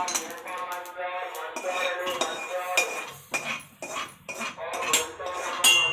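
Mustard seeds crackling in a covered frying pan, a dense scatter of sharp pops and tiny clinks rattling against the metal lid, close and lively throughout with no talking.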